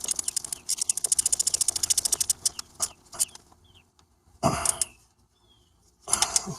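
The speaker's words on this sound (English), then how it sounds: "This is my little baby ratchet wrench." A small ratchet wrench tightens the electrical fitting on an alternator in a Honda/Acura 2.4L I4 engine bay, making a quick run of evenly spaced clicks up close, then a few isolated clacks and scrapes.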